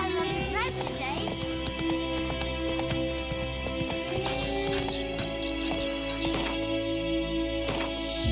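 Hooves of the horse Roach galloping in The Witcher 3 video game, a steady rhythmic clip-clop with occasional whinnies and game sounds, running under ongoing talk throughout.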